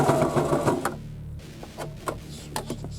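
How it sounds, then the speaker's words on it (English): Sewing machine running a front and back stitch to secure straps, a short burst of fast stitching followed by a pause and a few scattered clicks and taps of adjusting the machine. "Now I do a front and back stitch and then a zigzag stitch to the right of this stitch to secure the straps."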